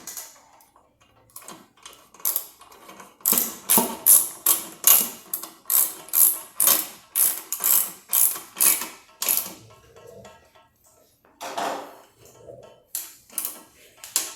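Rear axle nuts on a Pedal Electric e-bike's back wheel being tightened with a ratcheting wrench, giving a long run of quick, loud metallic ratchet clicks in steady strokes, with brief pauses between bursts and no talk.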